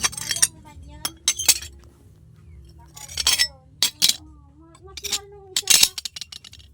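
A costly glass item shatters at home, giving several sharp clinks and tinkling shards in bursts across the clip, with quiet talking and room noise between the crashes.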